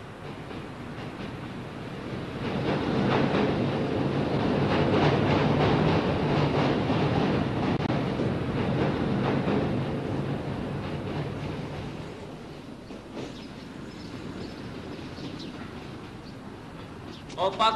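A diesel railcar train rumbles past at a station, its engine and wheels swelling loudly then fading over several seconds, with a voice speaking faintly underneath.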